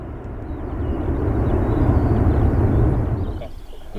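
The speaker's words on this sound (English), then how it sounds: "the 99 Squadron's C-17 there" RAF 99 Squadron C-17 transport jet at Brize Norton, a broad, rumbling roar that swells and holds strong before easing off, heard from a distance without talk.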